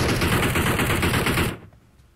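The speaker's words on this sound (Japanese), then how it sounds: "あそこで銃声が入 る。" Rapid automatic gunfire in the game PUBG Mobile, a loud, dense burst of shots lasting about a second and a half before cutting off into quiet.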